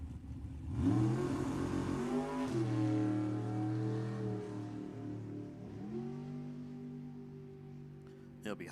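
Super Gas class drag racing car making its run, a loud engine roar that rises through the gears and holds steady, with faint crowd and track ambience behind.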